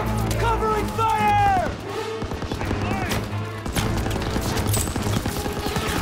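Machine gun covering fire in the World War II shooter Call of Duty: WWII, a dense rattle of automatic bursts under shouted soldier voices and battlefield noise, with tones sweeping through the mix.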